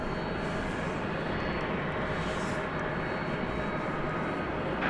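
A Boeing 777 jet roars steadily during takeoff on a runway at DFW Airport at night, a loud continuous broadband engine rumble with some faint background voice.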